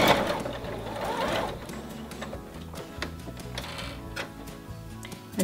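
Close and steady, a sewing machine back-tacks a seam on a baby onesie, its rapid needle ticking running continuously for a few seconds with no talking.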